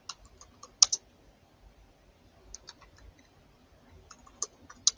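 Someone types on a computer keyboard somewhere off in the background, with scattered soft key clicks arriving in small irregular clusters and a few sharper taps standing out against a quiet room.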